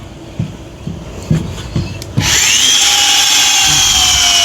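A series of evenly spaced knocks gives way to a power drill boring into wood to fix bolts, whining loudly and steadily close by as it spins up.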